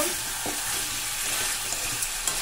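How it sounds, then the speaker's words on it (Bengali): Masala for a chicken and new-potato curry sizzles and spits in oil as it is stirred and sautéed, a dense continuous frying hiss with soft scraping, close and steady. "দেখো 2 থেকে 3 মিনিট এইভাবে ভালো করে কষিয়ে নেব।"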